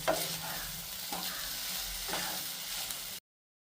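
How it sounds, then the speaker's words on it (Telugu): Okra fry with turmeric and salt is stirred in a pan, a close, moderate sizzle broken by a few scraping strokes of the spoon before the sound cuts off abruptly. "పసుపు వచ్చి 1/2 టీ స్పూన్, సాల్ట్ మనకు కావాల్సినంత వేసి ఒక్కసారి కలిపెట్టి మూత పెట్టేస్తాను"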